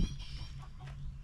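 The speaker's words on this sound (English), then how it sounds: "But the chickens obviously did not like that one little bit." Backyard chickens cluck in short agitated bursts, faint and close, after a stray cat came by.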